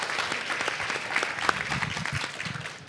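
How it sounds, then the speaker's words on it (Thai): Audience applause for a medical team at a Thai hospital foundation project launch, a steady crowd clapping that fills the whole stretch at moderate loudness with no talk over it. "ขอเสียงปรบมือให้กับทีมแพทย์แล้วก็ทุกภาคส่วนนิดนึงได้ไหมครับ"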